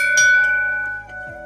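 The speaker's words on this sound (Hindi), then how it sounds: "घंटी बजा के अंदर चला जाए।" A metal temple bell is struck at the entrance of the Patal Bhuvaneshwar cave temple, giving a bright clang that rings and decays slowly, followed by a second softer strike near the end.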